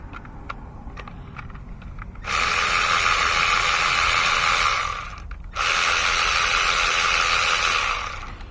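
Close, loud ratchet clicking as a socket wrench on an extension works the camshaft actuator bolts of a 2011 Chevy Equinox 2.4 litre, two sustained bursts of rapid ticking separated by a brief pause, with faint clicks beforehand.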